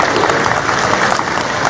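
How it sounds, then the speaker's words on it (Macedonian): Loud, dense applause fills the room at the opening of an exhibition, a steady wall of many hands clapping with no break and no speech over it. "Голем аплауз."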